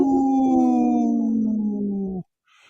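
People imitate wolves with one long, loud, wavering howl that slowly falls in pitch and cuts off abruptly, followed by a brief faint noise.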